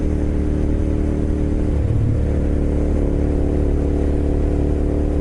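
A newly bought motorcycle being ridden, its engine droning steadily and loud with a low mid-range hum and slight throttle swell, plus constant wind rush, no voices.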